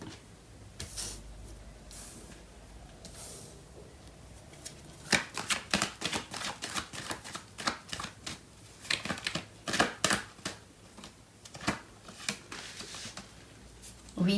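A deck of tarot cards is shuffled by hand in quick, soft riffles and slaps, close and fairly quiet, with irregular bursts that grow busier partway through.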